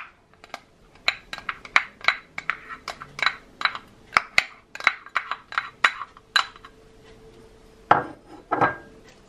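Garlic being chopped for minced pork kofta: a knife taps sharply on a cutting board in a quick, uneven series of close strikes, with a couple of louder chops near the end.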